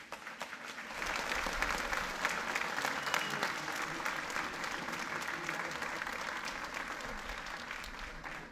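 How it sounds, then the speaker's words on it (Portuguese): Audience applause at a thanksgiving church service honoring retired jubilee pastors, sustained steady clapping from a full congregation lasting several seconds, starting abruptly and holding at an even level. "Uma salva de palmas para os nossos jubilantes."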